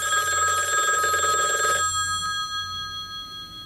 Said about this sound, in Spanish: me parece que suena el teléfono